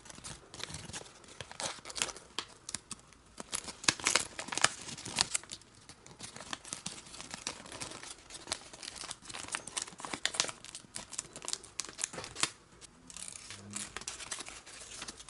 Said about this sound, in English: I'm going to fold this flap to one side and carry on moving it down